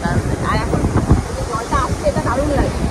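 Sea water washes over and around boulders at a river mouth near Digha, a continuous rushing surge heard close by and blended with gusty wind noise, with people talking over it.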